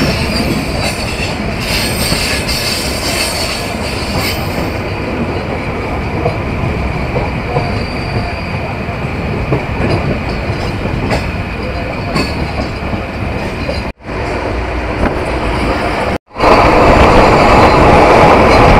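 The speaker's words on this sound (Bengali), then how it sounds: "এই মুহূর্তে ট্রেনের স্পিড রয়েছে 100+" The Banalata Express train rumbles along at over 100 km/h between Dhaka and Rajshahi, steady wheel noise and rattling throughout, with two brief dropouts before the roar resumes louder.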